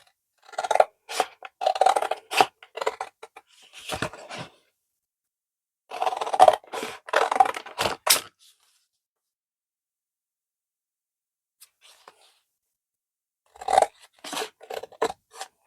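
Scissors cutting through cardboard from Amazon packaging, with quick crisp snipping strokes in short bursts separated by pauses, close and clear, with near silence between cuts.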